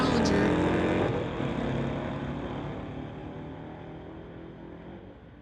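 A 2012 Camaro and a 2010 Dodge Challenger launch in a street-legal drag race, engine roar loud at the start and fading steadily into the distance, with a commentator talking over it.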